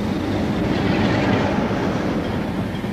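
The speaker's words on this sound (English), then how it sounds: "And that one, we're waiting for one train." A train rolls along a railway line, a steady loud broadband rumble with faint rail clatter filling the whole stretch without pause.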